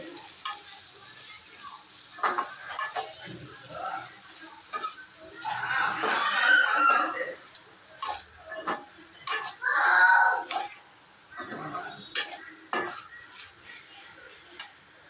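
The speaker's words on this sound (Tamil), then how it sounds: "கத்திரிக்காய் நல்லா வதங்கிடுச்சுன்னு பார்க்கலாம் எண்ணெயில்." Eggplant frying in oil in a pan for a biryani gravy is stirred with a metal spoon, a steady sizzle under repeated scraping strokes and occasional clinks against the pan, close and moderately loud.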